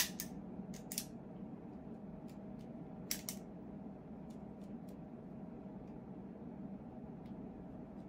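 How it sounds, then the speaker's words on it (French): A Romeo y Julieta Petit Churchill cigar has its head cut, heard as a few sharp, brief snips close by over a steady low background hum. "Donc c'est parti pour couper la tête du cigare."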